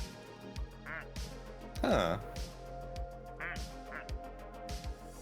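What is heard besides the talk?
duck quacks used as Morse code in a video game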